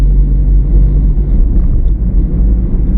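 The engine of a 2009 Hyundai i10 runs with a slight rattle, a steady low rumble that stays close and continuous throughout, with no talking.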